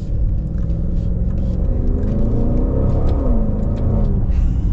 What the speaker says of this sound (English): just the sound you get out of a V8, it's so fun